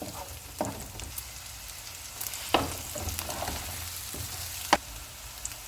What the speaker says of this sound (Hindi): अब इसमें ग्रीन प्याज का वाइट वाला पार्ट डाल देंगे। इनको हम 1 मिनट तक फ्राई करेंगे।